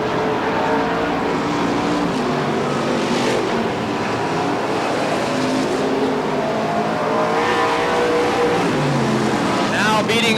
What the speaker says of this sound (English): A long way for that number 22 car in the Monte Carlo to reel the red 18 of Collier in